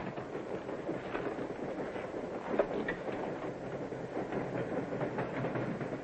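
A passenger train runs along the rails with a steady rumbling roll and faint rhythmic clatter throughout, one brief sharp knock midway, and no voices.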